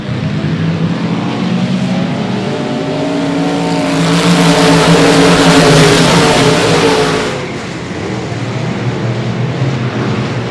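Several race cars at the South Texas Shootout in Tomball, Texas, accelerate off turn four at the green flag start, their loud engines swelling into a roaring peak mid-clip before easing back to a sustained drone.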